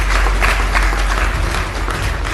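Audience applause at the opening of a skill training centre in Matia Mahal, Delhi, a dense, loud burst of many hands clapping that swells and then eases slightly over a couple of seconds.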